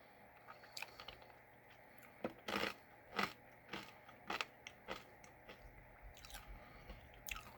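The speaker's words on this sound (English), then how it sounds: "The interesting shape kind of gives it a different kind of crunch." Crisp bites and chewing of a white spiral snack with seaweed pieces, heard up close as quiet, irregular crunches spread over several seconds, with no voices.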